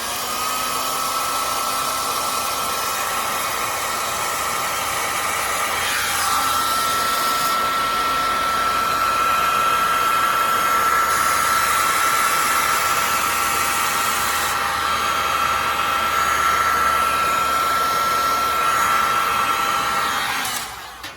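A heat gun blows steadily on resin art with metallic gilding flakes and mica powders. It makes a loud, continuous whooshing roar with a high whine for about twenty seconds before cutting off.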